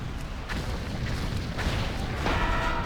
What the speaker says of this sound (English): Now be careful, because you can actually overheat the cannon,